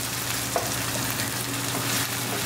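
Onion sautéing in a pan for an okra and taro root sabzi, a steady close sizzle with light stirring scrapes throughout, no talking.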